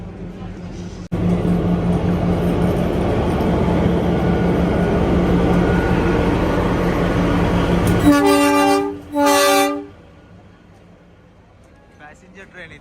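Shimla-Kalka passenger train arriving at Barog station on the Kalka-Shimla line, a loud steady rumble of rolling wheels and engine, then two sharp horn blasts before fading to quiet; voices talk over it.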